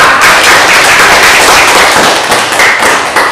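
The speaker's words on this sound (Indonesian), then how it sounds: "Tepuk tangan untuk kelompok 2 ya." Loud, close applause for a student group in a classroom, rapid dense clapping from many hands filling the room without a break.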